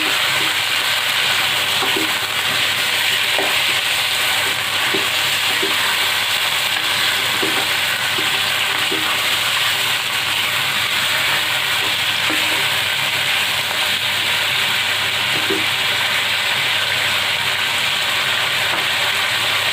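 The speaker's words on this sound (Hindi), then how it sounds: "थोड़ा सा चिकन को फ्राई करेंगे।" Chicken fries in a pan with a steady, loud, close sizzle and hiss running throughout, broken by occasional soft clicks of stirring.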